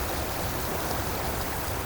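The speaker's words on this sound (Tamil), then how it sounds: "இப்போ தண்ணி பாயிற சவுண்டு உங்களுக்கு கேட்குதா தெரில" Water rushing over a check dam, a steady broadband roar with no breaks, loud and close throughout.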